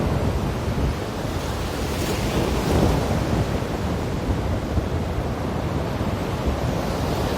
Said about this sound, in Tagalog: Ayan na yung dagat. Ayan na yung alon.